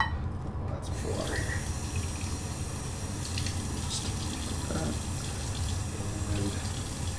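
Tap water runs steadily into a sink during a wet shave with a hot towel and a slant safety razor, a continuous close splashing flow with brief gurgles.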